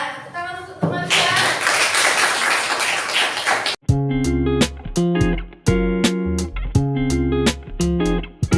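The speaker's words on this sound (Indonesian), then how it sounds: "Tepuk tangan untuk teman-teman." Students in a classroom clap for their classmates in a dense burst of applause lasting a few seconds, then it breaks off into a run of loud, rhythmic electronic tones.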